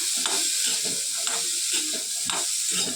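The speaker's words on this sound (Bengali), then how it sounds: "একটু তেলে ভেজে দেবো" Boiled chickpeas fry in a little oil, with a steady sizzle and hiss and the repeated scrape of a spoon stirring them in the pan, close by and without speech.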